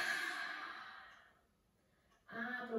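A slow, breathy exhale through the mouth during a yoga flow, soft and close, fading out before a fresh breath begins at the end.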